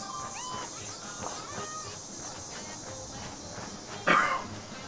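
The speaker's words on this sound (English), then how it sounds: "Sorry for coughing, guys. Still got a head cold going on." One sudden, loud cough from a person with a head cold, standing out near the end against a quiet room background with faint distant sounds.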